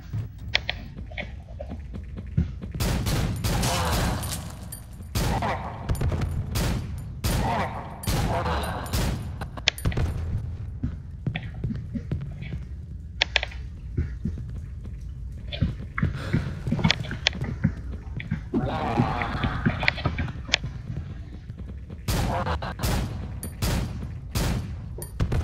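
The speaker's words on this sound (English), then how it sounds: "And that's how you use a shotgun." Shotgun blasts and other gunfire in the horror video game Cry of Fear, a string of loud, sharp reports scattered through the stretch, with mechanical creaks and clatter between them and a voice talking in places.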